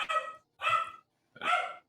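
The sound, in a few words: dog barking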